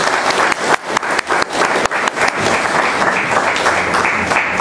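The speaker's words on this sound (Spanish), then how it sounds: "démosle ese fuerte aplauso de bienvenida" A church congregation gives a loud, strong round of welcoming applause, dense clapping close and sustained, with stronger bursts early on and steady clapping through to the end.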